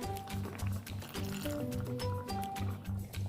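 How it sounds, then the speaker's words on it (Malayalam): Coconut milk pours into a pot of olan, the Kerala curry, in a close, gurgling, uneven stream. "ഇപ്പോൾ കഷ്ണമൊക്കെ വെന്തതുകൊണ്ട് തേങ്ങാപ്പാൽ ചേർക്കാം"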